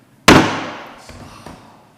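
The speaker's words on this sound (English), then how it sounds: "you got the gavel, use it" A wooden gavel bangs once to adjourn a city council meeting in Mount Shasta, a single loud, close crack with a short ringing tail and faint echoes of the room.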